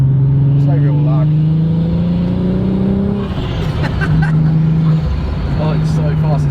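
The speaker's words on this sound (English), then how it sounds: "listen to the turbo. I mean, there's no real lag." A loud engine of a modified 520 bhp turbocharged Volkswagen Golf R32 drones and rises in pitch as it accelerates, with a turbo whine over it and voices talking inside.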